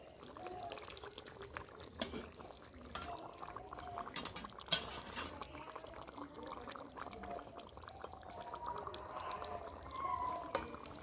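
Rui fish tel jhal curry gravy with potatoes and eggplant boiling in a covered pan, a soft continuous bubbling with occasional sharp clinks of utensils against the pot.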